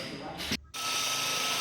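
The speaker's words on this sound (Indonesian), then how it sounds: "untuk tahap awal saya menggunakan mata bor kaca ataupun mata bor granit" An electric drill with a glass or granite bit bores into ceramic tile, a steady high grinding whine that cuts out briefly and then resumes, loud and close.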